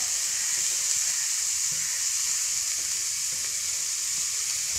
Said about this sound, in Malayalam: ആ സവോളയും ഈ പച്ചമുളകും കൂടെ നമുക്ക് ചേർത്ത് കൊടുക്കാവേ